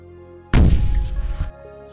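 A bomb goes off in the Bombing Quest video game, one loud booming blast that swells up suddenly and rumbles for about a second before cutting off, heard alone over faint background game music.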